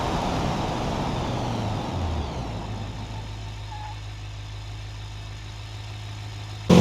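A Chevrolet Silverado pickup drives in the BeamNG.drive video game during a brake test from 180 km/h, its engine droning steadily and then fading to a lower idle-like hum, with a sudden loud burst at the very end.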